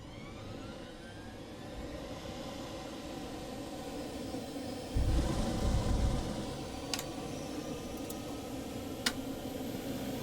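AH-64 Apache helicopter auxiliary power unit spinning up in Microsoft Flight Simulator 2024, a steady loud mechanical hum and whine with a surge midway and a few sharp ticks near the end.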